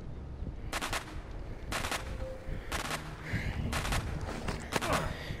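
Repeated gunshots in the zombie game The Walking Dead: Saints & Sinners, about five loud sharp bursts at irregular intervals over a steady background ambience.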